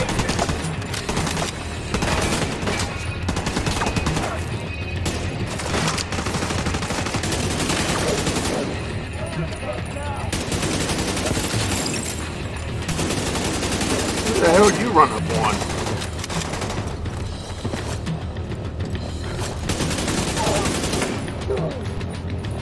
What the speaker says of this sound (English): Who is shooting that bazooka?